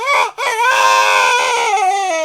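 A loud, strained rooster crow with a brief break near the start, then a long wavering call trailing off.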